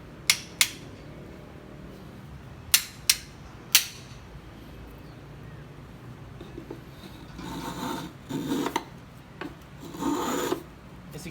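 A hand plane takes several slow rasping strokes across a wooden board, with a few sharp clicks and taps of adjustment first and then broader scraping passes near the end.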